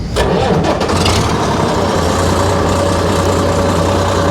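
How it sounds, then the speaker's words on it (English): An old farm tractor engine cranks briefly, catches and rumbles into a loud, steady idle close by, with a faint whine riding over the low throb. "This old tractor may not look like much, but she starts easily"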